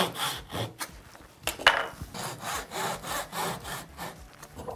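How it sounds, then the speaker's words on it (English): A Japanese dovetail saw cuts a wooden tenon on the pull stroke, a steady run of close, rasping strokes, roughly two per second, loud and alone with no talking. "I'm using a Japanese saw. This is actually a dovetail saw."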